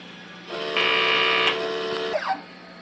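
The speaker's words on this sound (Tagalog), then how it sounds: "Unas ng wiper after head clean." An inkjet printer running a head cleaning cycle, a close mechanical whine that starts, rises to a louder steady hum, then ends with a short sliding clunk and squeak, with no talking.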